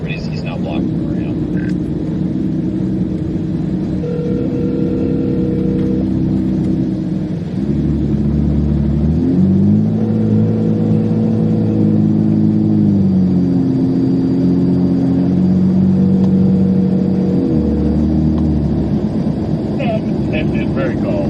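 Cars, an SUV and a semi truck pass on a snowy road near a bridge during a Tennessee snowstorm, a steady loud engine and tire rumble with a trailing drone from the truck, under a person talking.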